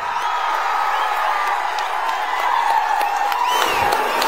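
A large outdoor political rally crowd fills the air with sustained cheering, clapping and whoops, a dense continuous roar with occasional louder shouts rising near the end.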